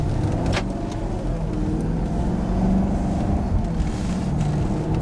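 Inside a Maserati Quattroporte driven in sport mode, a constant low engine and road rumble fills the cabin, with a brief higher swell of revving partway through.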